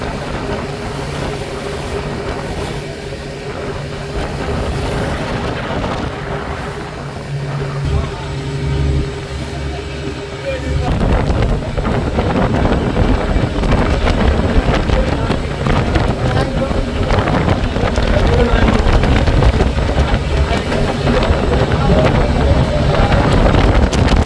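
Strong wind at about 50 km/h over the sea off Kanyakumari roars steadily around a boat, with broadband buffeting that grows louder and denser in the second half, continuous throughout with no talk.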